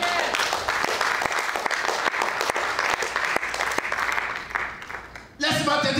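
A church congregation claps in sustained applause, dense and loud, for several seconds, then the clapping cuts off abruptly near the end as a brief burst of other sound takes over.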